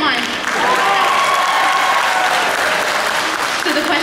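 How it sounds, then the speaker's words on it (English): Audience applause fills a convention panel hall, a steady dense wash of clapping sustained for about four seconds, with faint voices mixed into the crowd noise. "She's trying to get applause for that one, guys."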